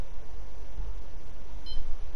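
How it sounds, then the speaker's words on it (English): Bite alarm on a carp rod stand in the fishing game Fishing Planet, giving a brief run of electronic beeps near the end over a low steady background rumble. "my bait alarm is going off"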